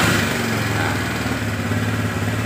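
A Honda Vario scooter engine runs steadily after starting, a close, continuous mid-pitched drone with no pauses, on a machine with a blocked radiator coolant passage.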